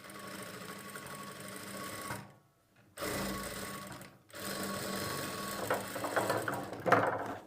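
A sewing machine runs close by while stitching a dot pattern on a blouse, its steady whirring broken by two short pauses and then resuming.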